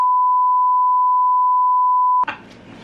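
A loud, steady censor beep holds one unbroken tone for about two seconds and then cuts off abruptly into quiet room noise.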